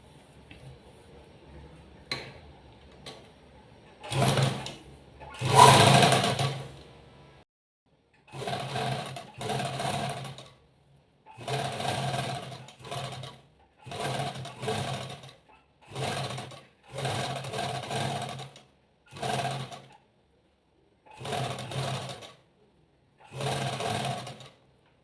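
A sewing machine stitches a slip seam in a tailoring lesson, running in about ten short, even bursts separated by brief pauses, close and clear with no talk over it.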